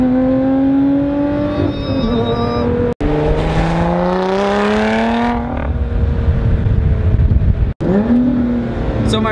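A loud, high-revving supercar engine climbs through the gears, pitch rising then dropping sharply at each of two quick shifts, close and continuous.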